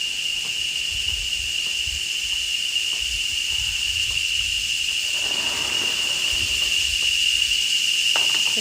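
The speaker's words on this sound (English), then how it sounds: "the cicadas are singing right now since it's noon" Cicadas drone at noon in the Costa Rican rainforest on the Osa Peninsula, a continuous high-pitched buzz, loud and unbroken, with faint low thumps and rustles underneath.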